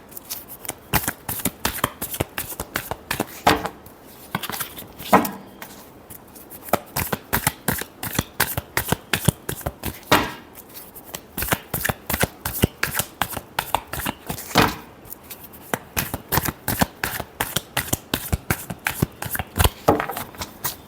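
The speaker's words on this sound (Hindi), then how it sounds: "Last shuffle." Tarot cards being shuffled by hand, a dense run of quick crisp riffling flicks repeating steadily and close, with no talk over it.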